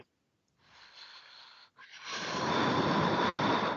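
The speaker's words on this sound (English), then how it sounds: "Why you are blowing your nose?" A person blows their nose in two forceful, hissing bursts, the second one longer and louder, close to the microphone with no speech.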